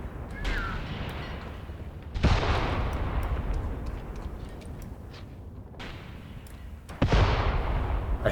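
An assault gun fires in the Graviteam Tactics Mius Front war game: two heavy, booming shots with rumbling tails, each a few seconds apart, over a steady low battlefield din with scattered faint distant reports.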